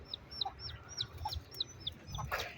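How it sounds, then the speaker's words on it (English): Chickens on an island cluck and chirp close by in quick repeated calls, a busy flock sound with several overlapping birds across a couple of seconds. "Look, chickens. Everywhere on this island is chickens."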